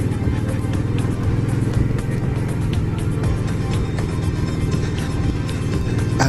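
A twin-cylinder motorcycle accelerating on the road, its steady engine drone loud and close from start to end, with a voice speaking over it.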